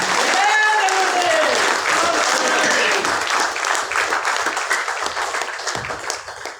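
Audience at an Ayurvedic business event bursts into loud, dense applause that holds steady, then gradually thins and fades, with a voice briefly heard over the clapping.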